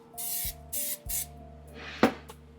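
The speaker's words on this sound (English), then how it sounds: "we are going to place it in this bowl here that I will spray with some" Pam cooking spray hisses into a bowl in three short, sharp bursts, followed by a clatter as the can or bowl is knocked, heard up close in a kitchen with no talking.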